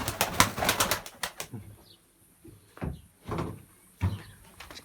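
Pigeons in a loft flap their wings in several short, close bursts separated by brief pauses, with soft rustles and knocks in between.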